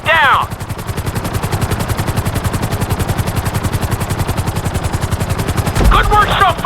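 Helicopter in the video game GTA 5, a steady loud rotor chop with rapid regular blade pulses throughout, briefly overlaid by short voice-like bursts at the start and end.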